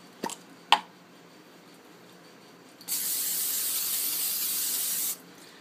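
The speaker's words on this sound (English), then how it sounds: "you're going to spray the inside of the bowl" A couple of soft clicks, then a steady, bright hiss of cooking oil spray into a bowl lasting about two seconds before cutting off.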